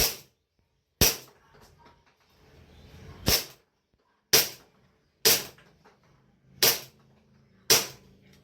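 A Tarran Tactical Pit Viper JW4 airsoft pistol fires seven sharp, loud, close pops at uneven intervals roughly a second apart, with quiet gaps and faint handling noise between shots.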